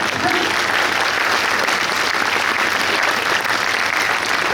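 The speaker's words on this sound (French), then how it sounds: "On peut applaudir." An audience at a mayor's New Year's greetings reception applauds steadily, a dense, even wash of many clapping hands that keeps going at a constant level without fading.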